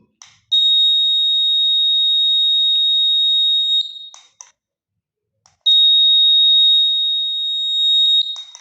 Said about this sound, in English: we're getting the sound of the buzzer